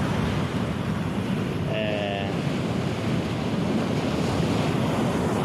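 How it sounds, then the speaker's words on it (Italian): Sea waves breaking on a shore with fairly high surf, a steady roaring wash with wind buffeting the microphone and a brief faint tonal whine in the middle. "Potete forse già sentirlo, il rumore del mare. Ci sono delle onde abbastanza alte"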